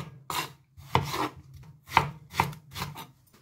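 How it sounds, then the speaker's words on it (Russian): A knife chops through eggplant on a cutting board, about five firm, close thuds at an uneven pace with no talking. "баклажан еще раз пополам и нарезаю также крупно."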